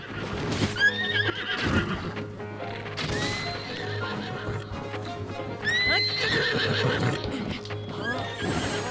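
A horse whinnies loudly several times over clip-clopping hooves in The Legend of Zelda: Breath of the Wild, with a game-like backing tone and no talk.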